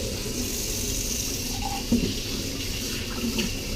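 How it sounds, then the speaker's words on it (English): Kitchen tap running steadily while something is rinsed under it, a continuous close water rush with small splashy changes as the item moves in the stream. "rinse this off while we're at it"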